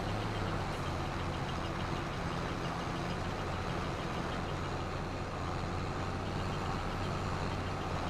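A tractor in Farming Simulator 22 hauls a heavy trailer loaded with stone, its engine a loud, steady low drone that holds constant throughout.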